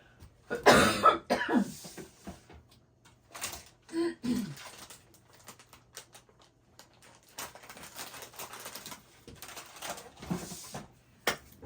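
A loud, harsh cough near the start, followed by a few softer coughs and throat-clearing sounds with quiet stretches between them.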